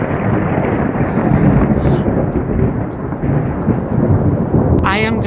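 Thunderstorm with heavy, steady rain roaring throughout and low rumbling thunder building beneath it, loud and close, ending with a brief burst of a voice.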